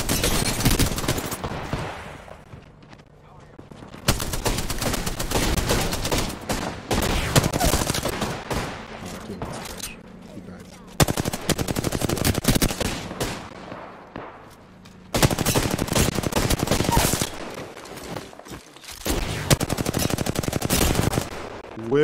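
Heavy gunfire erupts in an Apex Legends fight where a Peacekeeper shotgun is in play, coming in loud, sustained bursts separated by brief quiet gaps.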